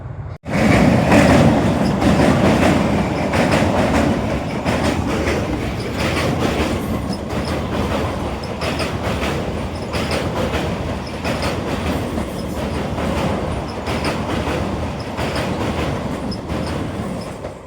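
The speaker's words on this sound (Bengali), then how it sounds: "লোকাল ট্রেন অথচ খুব স্পিডেই গেল" A local train on the Tarkeshwar–Bishnupur rail line rushes past at speed, a loud, continuous roar of wheels and carriages with rhythmic clattering and faint metallic squeal, close by and sustained throughout with no talking.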